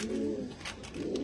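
Andhra breed pigeons kept for sale, low repeated cooing close by in two soft bursts with faint background noise and no speech.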